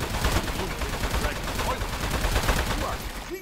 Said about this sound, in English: Shoot the turret at him